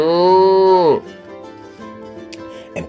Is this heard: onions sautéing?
no